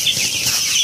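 A crowd of chickens fills a simple closed poultry house with a loud, continuous din of clucking, shrill calls and wing flapping, heard close and without speech.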